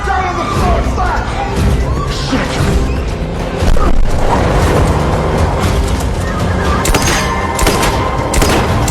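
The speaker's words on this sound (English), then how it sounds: "Cole was shot in the head." Gunfire in a tense crime-film scene, sharp booming shots going off amid a loud, dense mix of noise and shouting voices throughout.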